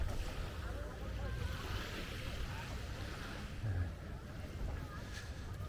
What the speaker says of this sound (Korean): 스피드보트고요